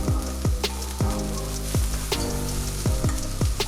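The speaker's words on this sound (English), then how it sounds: "Go ahead and get these vegetables sweated out real good." Bell pepper and celery sizzle steadily in a hot pan, with a constant frying hiss broken by repeated sharp clinks and scrapes of stirring, close and fairly loud.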